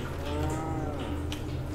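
A cow moos in Resident Evil 4, a low drawn-out lowing that holds steady for nearly two seconds over a game's ambient background.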